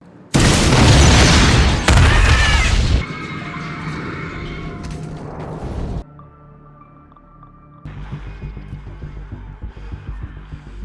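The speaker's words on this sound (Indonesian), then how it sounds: "sebuah bus bertingkat meledak di jembatan di dekat mereka" A loud, booming explosion erupts suddenly as a double-decker bus blows up on a bridge, followed by a second blast and a long rumbling roar that fades into lower, rattling noise.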